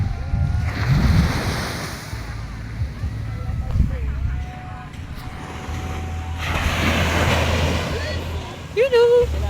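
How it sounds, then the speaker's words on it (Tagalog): Sea waves rush and wash ashore at a beach in Lian, Batangas, with steady wind noise, while people chat nearby and a boat engine hums faintly at times. "Lakas ng alon."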